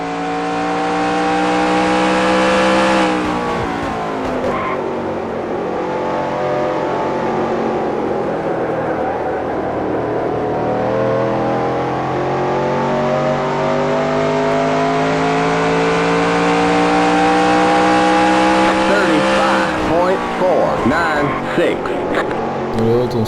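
A NASCAR race car in the NASCAR Racing 2003 Season PC game roars loudly and steadily, its engine pitch climbing through gear shifts with brief dips near the start and end, a constant close-up drone throughout.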